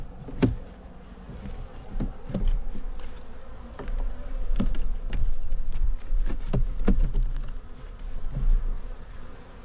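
Honeybees buzz steadily in an opened hive holding capped honey stores, a continuous near drone with scattered knocks and clicks from handling the frames.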